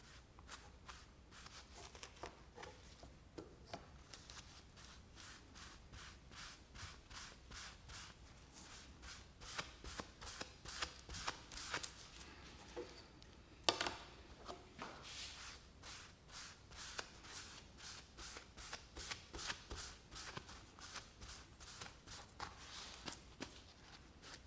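Paste wax is rubbed by hand onto a ukulele fretboard in quick, rhythmic back-and-forth strokes. The scratchy, close sounds are faint and come in steady bursts with brief pauses.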